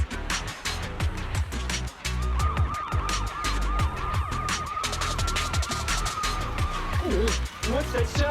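A wailing police-style siren from the video game Zenless Zone Zero rises and falls steadily over busy game sounds and dramatic music, with a voice speaking over it.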